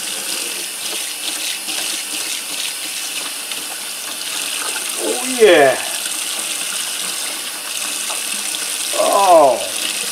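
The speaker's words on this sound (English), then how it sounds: "Let's pour some water down on this fish." Tap water poured over a flounder in a kitchen sink, a steady running stream with two short gushing splashes as the flow hits the fish, while someone briefly speaks.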